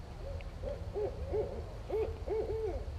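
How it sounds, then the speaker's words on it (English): Two owls hoot back and forth at night around a hammock campsite, a series of soft, paired hoots in a loose rhythm, moderately distant over a low background rumble. "it sounds like we have an owl in the neighborhood"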